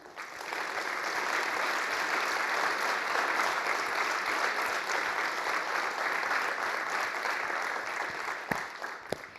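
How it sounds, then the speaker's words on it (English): A conference audience gives a steady round of applause at the closing remarks of a multi-day event, an even wash of many hands clapping throughout, moderately distant with no talking. "Maybe a quick round of applause for yourselves and for all of them."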